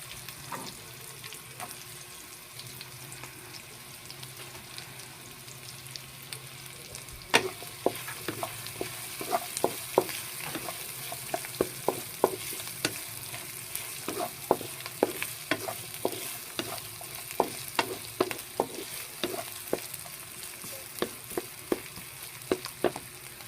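Ginger stir-fries in a pan for Bicol express, a soft continuous sizzle broken by frequent sharp scrapes and clinks of the utensil, growing busier partway through, close and without talk.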